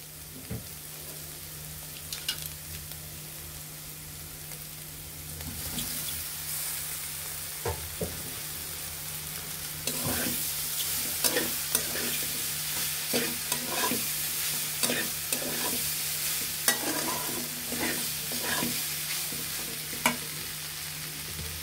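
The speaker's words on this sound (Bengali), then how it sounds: "আমাদের সবজিগুলো ভাজা হয়ে গিয়েছে। এখন আমরা পাস্তাগুলো দিয়ে দেব।" Pasta and vegetables sizzle in a hot pan as a spatula stirs and scrapes in frequent strokes, the frying growing louder partway through.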